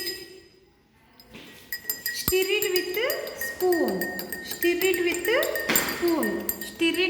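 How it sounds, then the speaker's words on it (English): Repeated clinks of a spoon against a glass of water, a rhythmic ringing as it stirs, with a voice speaking over it. "Take a glass of water, stir it"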